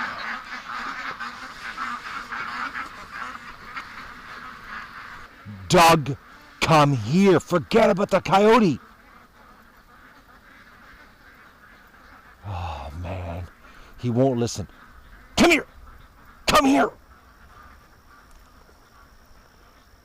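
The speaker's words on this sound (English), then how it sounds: "the ducks won't go in the pen because they think the coyote's at the other end of the pen" Ducks quack and honk near a pen in alarm over a coyote, loud sharp bursts in clusters over roughly twelve seconds, while a man calls to a dog between them.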